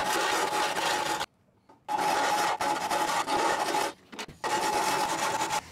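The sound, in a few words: filing metal on a Ford Transit van floor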